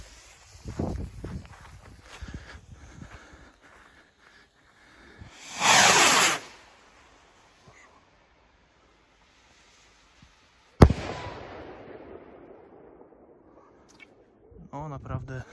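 Absolut TXR793 firework rockets launch, one with a hissing whoosh around six seconds, then a sharp, loud burst near eleven seconds that trails off in crackle, with footsteps and rustling outdoors before and after.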